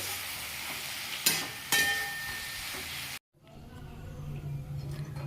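Mustard paste and onion stalks frying and being stirred in a pan, a steady close sizzle with sharp scraping stirs, a brief cut, then softer sizzling resumes alone.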